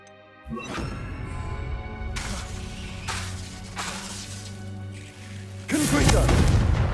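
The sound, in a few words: Incendio fire spell being cast in Hogwarts Legacy video game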